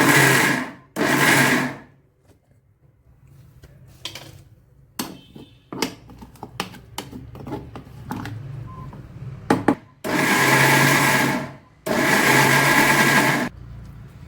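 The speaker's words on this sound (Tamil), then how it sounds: "நான் கொஞ்சமாக இருக்கிறனால மிக்சி ஜாரில் அரைக்கிறேன்." Mixer grinder jar dry-grinding soaked urad dal and fenugreek seeds in short loud whirring bursts, two near the start and two longer ones at the end, with quieter clatter and handling noises between.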